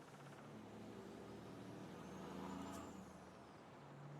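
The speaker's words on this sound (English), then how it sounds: "This truck is very fast, so should take us no time at all to get up to the farmyard" A fast truck drives toward a farmyard in Farming Simulator 22, its engine a steady, close drone throughout, with a brief air-brake hiss near the end.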